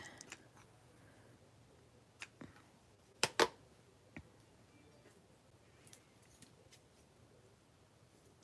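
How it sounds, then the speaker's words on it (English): Scissors cut ribbon at a craft table while a bow is made for a handmade card. A few quiet, sparse snips are heard, the clearest being a close double cut midway, with no talk. "Here's my scissors."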